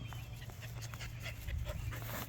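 A dog whimpers and pants while carrying a stick outdoors, the soft whines and breaths close and steady over a constant low engine-like rumble from a 1986 Squarebody truck with headers and dual exhausts.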